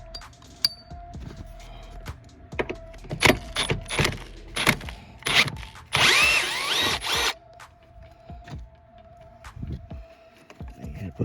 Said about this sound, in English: So I'm gonna go ahead and unbolt that one.